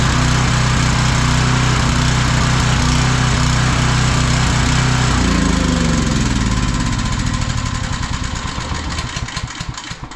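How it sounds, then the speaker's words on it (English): Old generators running, a loud, close, steady engine drone with one unit's pitch changing midway as the throbbing shifts, continuous with no talk. "I've got that generator running, and I've got this generator running."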